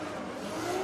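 A 780-horsepower drift car runs at full throttle during DMEC qualifying in Germany, a continuous rising engine roar heard at a distance with a faint high whine building toward the end.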